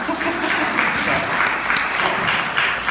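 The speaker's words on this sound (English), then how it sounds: "I don't know why you're clapping" An audience claps steadily and loudly throughout, a dense wash of applause with no voices over it.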